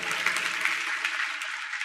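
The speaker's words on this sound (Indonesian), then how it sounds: "Beri tepuk tangan untuk Tuhan Yesus." A church congregation applauds after a sermon remark, a dense steady wash of clapping at close-to-moderate loudness, with no talking over it.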